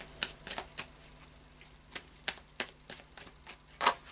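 Tarot cards are shuffled in a series of quick, crisp riffles and slaps, irregular in rhythm and close to the listener, with no talking.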